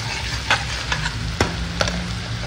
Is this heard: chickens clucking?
no